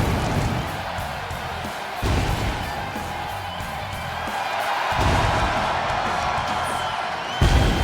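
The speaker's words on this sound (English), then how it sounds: "You can hear them singing along." Crowd in a WWE 2K26 video game wrestling arena sings along in a steady, loud roar, with sharp swells and sudden bursts breaking through around the entrance of CM Punk.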